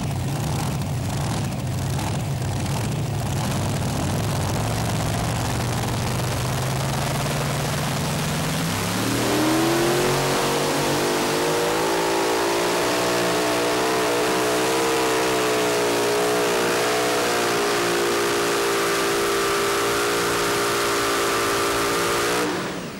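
Powerful engines of a four-engine modified pulling tractor roar continuously at high volume at a tractor pull, starting with a low rough throb and then climbing into a rising, screaming whine that holds to the end.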